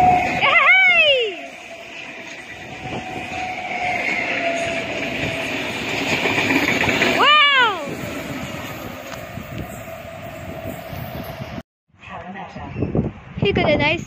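Train rolling past the platform at Summer Hill station, a steady rumble with horn-like tones and a station announcement voice over it, ending in brief quiet and then rattling.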